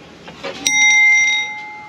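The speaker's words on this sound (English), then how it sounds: "the bells. A bell." A bell is struck once at a children's play area alongside drums, giving a sharp bright ring that sustains and slowly fades after soft rustling and faint voices.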